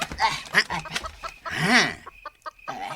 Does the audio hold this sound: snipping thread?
no